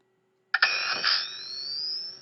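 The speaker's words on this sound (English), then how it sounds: "The proton gun power up" A Ghostbusters proton pack gun powers up after brief silence, starting with a sharp burst and settling into a sustained electronic whine that slowly rises in pitch over a low steady hum.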